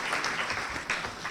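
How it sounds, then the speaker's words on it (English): Brief burst of clapping from guests at a 2018 mayor's luncheon honoring Steve, fairly soft and a little distant, with the loose rhythm of a small room. "So big round of applause for Steve."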